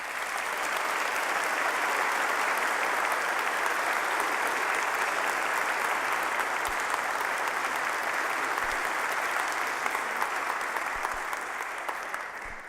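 Sustained audience applause welcoming Sean Milner at the Mississippi Baptist Convention, a dense, even roar of clapping from a large crowd lasting about twelve seconds before tapering off.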